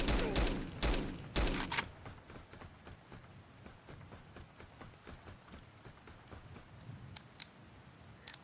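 Bursts of mini AK rifle fire in a survival video game, loud rapid shots packed into the first two seconds, then quieter scattered clicks and footsteps with a few faint later pops.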